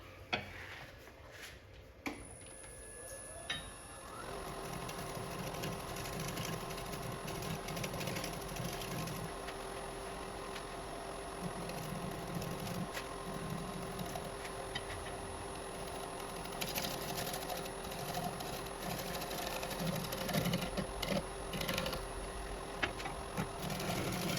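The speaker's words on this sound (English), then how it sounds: "a quick little shear cut pass to make sure that we have a nice surface" A wood lathe takes a quick shear-cut pass on a rough-turned piece, a steady mechanical whir with a continuous high whine and rhythmic chattering from the tool against the spinning wood, close and fairly loud throughout with no talk.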